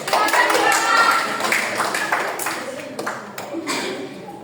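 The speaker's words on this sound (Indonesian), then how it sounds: "Oke, kita tepuk tangan itu semua." A primary school class claps hands together during a micro-teaching lesson, a loud burst of clapping that thins into scattered claps, with voices mixed in.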